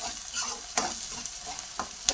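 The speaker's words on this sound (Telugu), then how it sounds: "ఉల్లిపాయ ఇట్లా వేగుతున్నప్పుడు ఒక 5-6 కాజు విడదీసుకొని వేసుకోవాలి" Onions sizzle in hot oil as cashews and curry leaves are added for Telangana-style bagara rice, with a steady frying hiss broken by a few sharp spoon-stirring scrapes.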